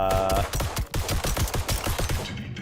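Rapid automatic weapon fire in the looter-shooter game The First Descendant, a loud, tightly spaced string of shots in a fast steady rhythm, heard alone without talk.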